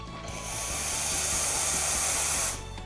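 Steady loud hiss of steam venting from the milk frothing wand of a Nespresso Maestria espresso machine, rising in quickly, holding for about two seconds, then cutting off abruptly.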